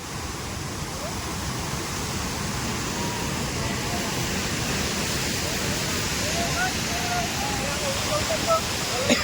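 Water pours over the Shetrunji dam in a steady, dense rushing roar, broad and continuous like a waterfall, close and unchanging throughout, with people talking faintly underneath.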